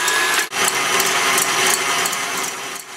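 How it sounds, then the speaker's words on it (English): Electric mixer whisking room-temperature egg whites at medium-high speed in a mixing bowl for macarons, a steady loud whirring drone that dips briefly once and runs on without talk. "we're going to whisk that at a medium-high speed"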